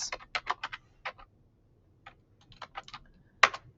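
Keys on a computer keyboard tap out a short word in uneven bursts of crisp, close clicks, with a pause midway and a sharper final keystroke.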